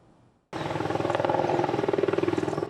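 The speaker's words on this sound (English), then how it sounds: "An Apache attack helicopter touches down on the grounds of Taiwan's National Defense University" After a moment of quiet, an Apache attack helicopter's rotor suddenly thunders in close and loud with a rapid, steady chopping beat as it lands on a university's grounds in Taiwan.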